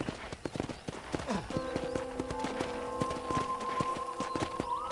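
Rhythmic clip-clop of horse hooves at a walking pace, with a sustained tonal hum rising underneath, from the video game Red Dead Redemption on PC.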